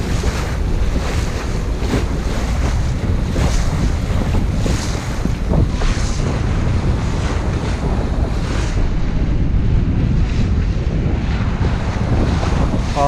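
Strong wind buffets the microphone over steady wave wash as a sailboat travels on the Mississippi River in 10 to 15 knot winds, a constant loud roar.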